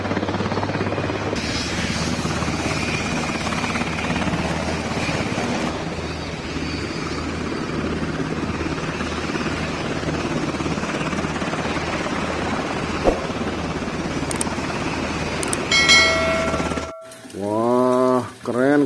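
A black toy helicopter gives a steady whirring drone throughout, fairly loud and continuous, then cuts off near the end as a few high chirpy tones sweep in.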